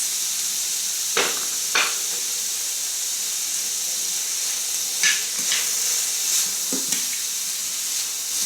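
Quinoa and black beans cook in a pan with a steady, even sizzle and hiss, broken by a few soft stirring scrapes.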